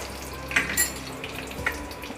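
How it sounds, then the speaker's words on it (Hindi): Chana dal and urad dal fry gently in hot oil in a home kitchen, giving a soft continuous sizzle broken by a few sharper crackles and pops, with no speech. "और इसे हमें हल्का हल्का फ्राई करना है जब तक कि दाल का कलर हल्का सा गोल्डन ब्राउन नहीं हो जाता।"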